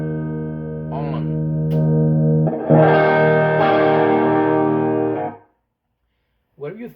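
Electric guitar played through an overdrive pedal with both switches on, aiming for a particular tour tone. A sustained note rings, then a thick, distorted strummed chord swells and holds before cutting off, followed by a brief voice.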